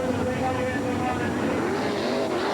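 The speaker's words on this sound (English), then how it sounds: "Just some engine revving to kind of get everybody in the mood." World of Outlaws sprint car engines rev at a 1991 Eagle Raceway race, several motors droning and rising in pitch with an announcer talking over them.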